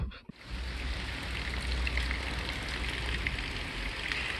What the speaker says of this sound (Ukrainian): За вікном сьогодні йде дощ.